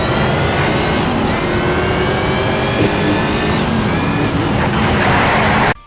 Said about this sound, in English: listen to the sweet sound of an engine going through a tunnel